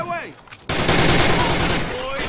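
Gunfire crackles in Men of War Assault Squad 2 as a dense, loud burst of rapid shots starts abruptly after a brief lull and holds steady, with a voice faintly heard at the start.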